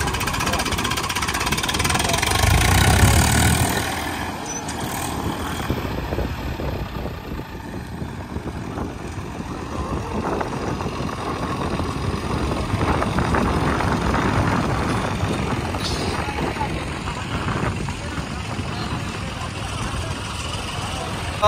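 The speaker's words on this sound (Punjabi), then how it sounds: "ਕੱਢਤਾ ਆਪਾਂ ਟਰੈਕਟਰ" An 855 tractor engine labours while pulling a stuck tractor free. A loud, close rumble swells near the start, then settles into a continuous mid-pitched drone, with voices at times.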